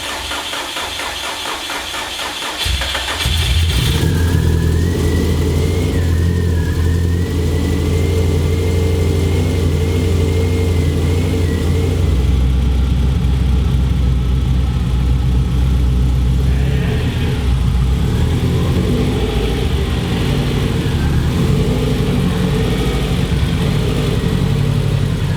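A built Subaru EJ205 engine in a WRX cranks and fires up, then settles into a loud, steady, throbbing idle. Occasional revs rise and fall over the continuous rumble.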